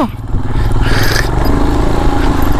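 A motorcycle engine held at full throttle while climbing a rough offroad track on the Kaza to Manali route, a loud, close, continuous roar with gravelly clatter underneath.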